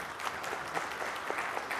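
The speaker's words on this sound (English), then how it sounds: "Nice round of applause for her, please." A short burst of applause from a panel discussion audience at a data center conference, dense steady clapping throughout.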